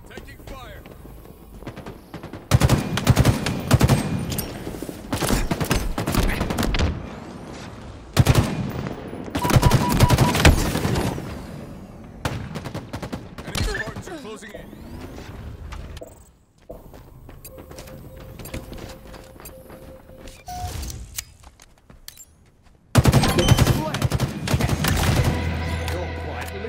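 Automatic weapon fire in Halo Infinite rattles in long, loud bursts separated by quieter stretches of footsteps and game effects, with occasional announcer-style voice lines.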